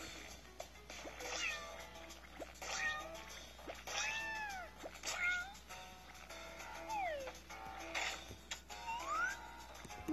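Several cats meow repeatedly, rising and falling cries overlapping one another at moderate volume, nearby with faint background noise.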